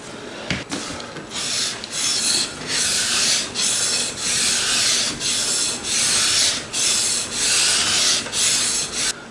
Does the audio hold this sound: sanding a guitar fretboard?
yes